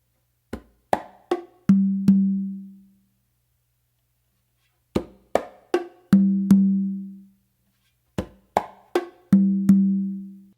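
Three repeated phrases of conga strokes, each a few quick sharp hits then two ringing, booming low open tones on the tumba, played alone in a steady tumbao groove.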